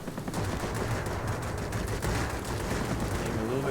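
Rapid cannon fire from a Yak-9U fighter in World of Warplanes, a dense continuous rattle of shots with steady loudness through the whole stretch and engine drone underneath.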